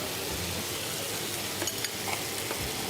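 Chopped onion dropped into oil with ginger paste, cardamom and cloves for butter chicken, a dense continuous sizzle with a few light clinks of a utensil near the end.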